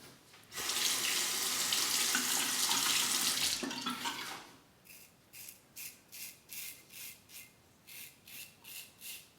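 A Parker 60R razor is rinsed under a running tap, with a steady rush of water for about four seconds, then a string of short, regular splashing swishes as it is shaken and rinsed, close and moderately loud.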